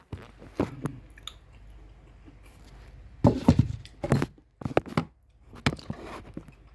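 Crisp, crunchy bites and chewing of fried chicken skin come close up in irregular bursts, loud crackling crunches separated by quieter pauses of softer mouth sounds.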